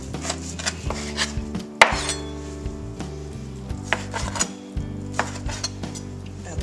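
A knife cuts beef into roughly inch-sized cubes for beef bourguignon, giving repeated close taps and thuds on a cutting board with a few sharper clacks in an irregular rhythm.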